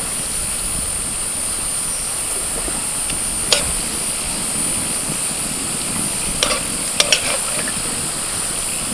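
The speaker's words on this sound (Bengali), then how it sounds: "এরকম একটু লাল লাল করে ভেজে তুলে দিচ্ছি" Mango fritters fry slowly in oil over low heat, a steady soft sizzle with a few sharp utensil clinks against the pan.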